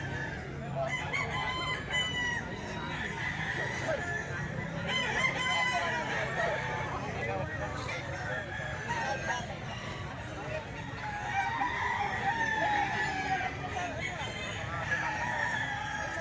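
A stag rooster crows repeatedly through steady background farmyard noise, with other fowl and murmuring voices around it.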